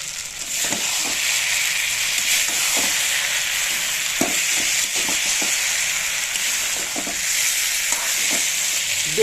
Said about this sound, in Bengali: এই ভাজা আলু ডিম এগুলো সব এতে একসাথে দিয়ে দেবো। দিয়ে মশলার সাথে কষিয়ে নেব।